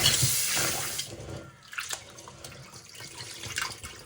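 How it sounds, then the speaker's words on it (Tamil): Running tap water rinsing urad dal, a bright hiss of flowing water that is strongest at the start, then breaks into softer splashes and drips as the lentils are stirred, close and fairly quiet. "உளுந்தை கழுவிட்டு ஊற விடுவோம்"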